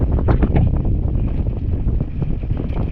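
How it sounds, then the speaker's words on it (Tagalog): Strong wind buffets the microphone in a continuous low roar while fishing outdoors, gusting unevenly and drowning out other sounds. "Yung lakas ng hangin mga idol, kaya dito lang tayo sa tabi-tabi lang."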